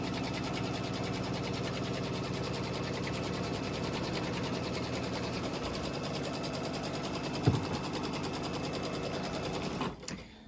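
An embroidery sewing machine stitching a vinyl heart runs with a steady, loud, fast mechanical whir and rapid needle rhythm that continues almost without pause, ending with a brief clunk.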